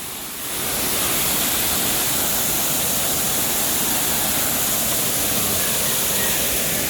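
Flowing river water rushes in summer, a loud, constant broadband wash that swells up in the first second and then holds steady without talk.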